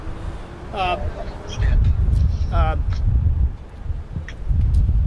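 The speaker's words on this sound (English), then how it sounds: "It's pretty windy out here." Gusty wind buffets the microphone outdoors outside a courthouse in low rumbling surges, with brief chirpy sounds in between.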